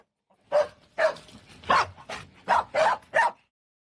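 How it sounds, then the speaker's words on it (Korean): Chained pit bull terriers at a suspected illegal dogfighting site bark fiercely, with about seven loud, close, separate barks at a steady rhythm and no voices. "언덕을 오르자 쇠사슬에 묶여있는 큰 개들이 보입니다. 접근하자 사납게 짖어댑니다."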